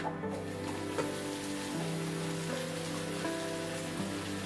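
Marinated duck meat sizzles steadily in a pan of browned fried onions, a soft continuous crackle with faint scattered pops and no talking.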